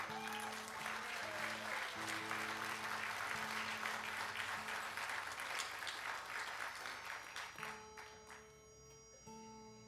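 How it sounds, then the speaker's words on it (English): Audience applause at an outdoor music festival for the sound engineer, steady clapping mixed with sustained musical tones and a faint voice, gradually fading over the last couple of seconds. "Give the man a round of applause."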